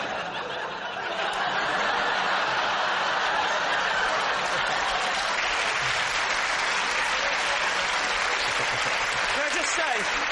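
A studio audience on a British comedy panel show claps loudly and continuously, dense applause mixed with chuckles and laughter, with voices faintly underneath.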